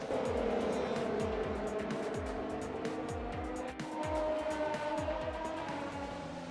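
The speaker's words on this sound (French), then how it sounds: "je me fais doubler par Raikkonen et mon coéquipier Hubert" Formula 1 cars in the F1 2020 racing game roar around Le Castellet at the French Grand Prix, with engine notes rising and falling repeatedly as rival cars close in and overtake.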